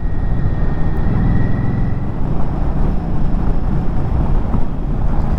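Loud, steady wind roar buffets the microphone on a 2023 Indian motorcycle cruising at highway speed, a dense continuous rush with no breaks and no voices.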